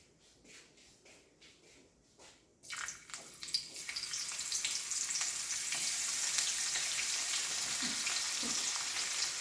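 Onion drops into hot oil already tempered with a bay leaf, and after a few quiet clicks a loud crackling sizzle bursts up and then settles into a steady close frying hiss.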